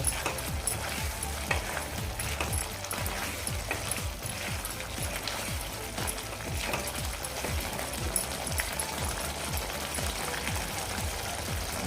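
Spoon stirring chana masala in a pan, a steady run of scraping, soft sizzling and repeated stirring strokes, close and moderately quiet throughout.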